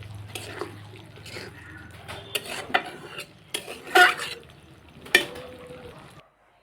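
Spinach and potato curry with tomato and garam masala being stirred in a pot, with a spoon scraping and clinking against the metal in irregular strokes, close and moderately loud, alone with no talk.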